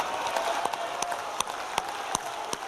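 A political party gathering applauds its party president with steady, dense clapping from a large crowd, sharp individual claps standing out from the continuous roar.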